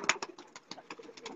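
Pigeons coo in a short run of soft, repeated calls, close by and fairly quiet, with no talk over them.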